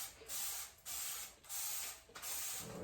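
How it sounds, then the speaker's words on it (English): Four quick bursts of cleaner sprayed from a trigger bottle during household cleaning, each a close, bright hissing spritz lasting about half a second, separated by short pauses with faint trigger clicks. "real fast while I'm doing, spraying this out"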